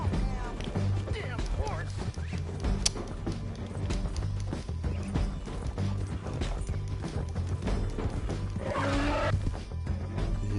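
A horse running in Red Dead Redemption 2, with hoofbeats and clattering impacts in a busy mix of game noise and voices.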